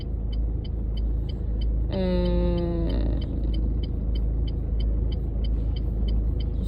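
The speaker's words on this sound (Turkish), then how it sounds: "şu an ya otobüs geçmeye çalışıyor" A bus passing along an Istanbul street, a steady low rumble of traffic with a brief tonal horn-like sound partway through and a short vocal utterance.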